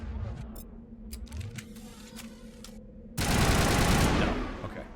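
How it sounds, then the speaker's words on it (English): Assault rifle in the video game Mass Effect fires a dense, loud burst of rapid shots lasting about a second, preceded by quieter game clatter and clicks. "I should probably figure out if my assault rifle's a burst."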